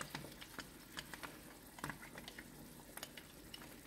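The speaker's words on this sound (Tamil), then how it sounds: "இப்போ எல்லாம் சேர்ந்து நல்லா கொதிச்சு வரட்டும்." Chana masala gravy bubbles in a pot, soft irregular pops and plops over a low simmering hiss, quiet and close with no talk.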